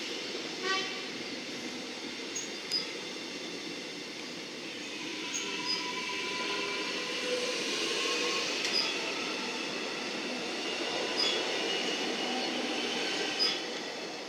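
A Melbourne Metro train bound for Flemington Racecourse passes at a distance as a steady broad rumble, with faint wheel squeals and brief high tones rising over it throughout.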